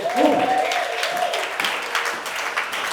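A church congregation breaks into applause for the Lord, a dense wash of clapping that swells early and carries on evenly, with a voice briefly heard over it at the start.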